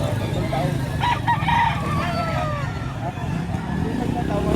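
Roosters at a fighting-cock auction in Lipa, Philippines crow in several short calls amid a busy crowd, while someone talks over them and engine noise hums in the background.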